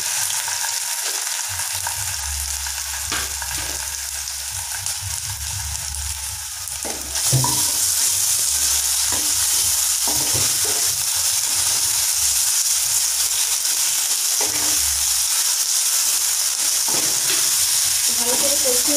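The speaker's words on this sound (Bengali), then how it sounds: "ভালো করে কষিয়ে নেবো যাতে আদা রসুন কাঁচা গন্ধটা কেটে যায়" Ginger garlic paste sautéing with fried onions in a pan, a continuous hiss and sizzle with scraping stirs, getting brighter and louder partway through, while someone talks quietly.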